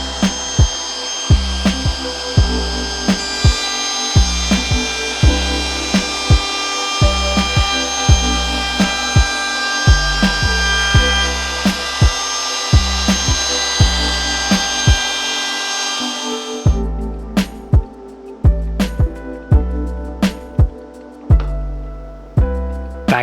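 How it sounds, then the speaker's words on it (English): Trim router chamfering the edge of a wooden end table top, a loud high whine of the cutter with rhythmic rasping passes over the wood, then the motor cuts off and sharp knocks and handling sounds follow. "Using a trim router, I put a light chamfer on the top to break the edge."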